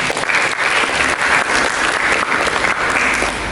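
A church congregation applauds together in a steady, dense wash of clapping that fills the room for several seconds without a break, with no voices standing out.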